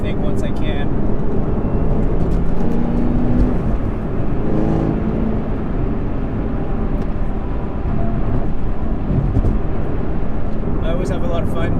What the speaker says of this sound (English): The exhaust sounds good out of the box